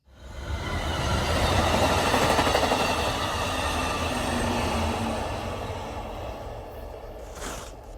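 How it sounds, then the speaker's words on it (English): An Amtrak train rumbles past near a campsite in an island ghost town, a loud steady roar and rattle of rolling cars that swells quickly and slowly eases over several seconds, with no voices. "Amtrak is scheduled to come through here in about 5 minutes"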